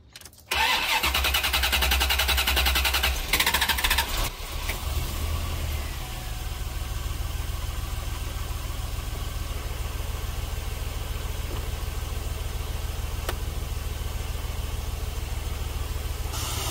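A Corvette L98 V8 engine cranks and catches, then settles into a steady, rumbling idle with a shake to it that continues evenly to the end.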